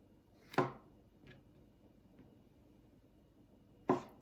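A knife cuts through Brussels sprouts in quarter-inch slices on a board, two sharp, fairly quiet chops about three seconds apart with a faint tap between them.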